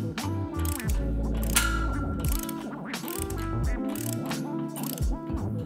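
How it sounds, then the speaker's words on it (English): A ratchet socket wrench tightens bolts on a power rack, giving fast rhythmic clicking ratchet sweeps close up and loud, with short pauses between strokes and no talk. "we'll hold our wrench to one side and our socket to the outside to tighten."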